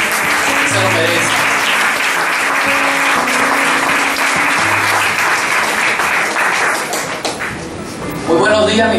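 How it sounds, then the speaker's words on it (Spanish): A church congregation gives loud, sustained applause that fills the hall as a steady wash of claps. Near the end the sound shifts and a voice cuts in. "Vamos a dar un fuerte aplauso al Señor."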